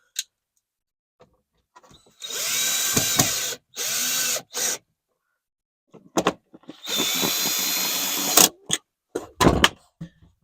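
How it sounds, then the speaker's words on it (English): A cordless power drill drives screws back into a Honda Element interior panel, whirring in several loud bursts of a second or two each, separated by short pauses and small clicks, close up with no talking. "Put back in all the screws."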